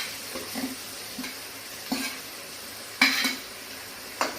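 Green chilli and onion pieces sautéing slowly in a pan on low flame for majjiga pulusu, giving a steady faint sizzle with a few soft spatula scrapes every second or so.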